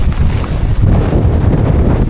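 Strong wind at a wild camp buffets the microphone in a steady, loud roar with low rumbling gusts, no voices present.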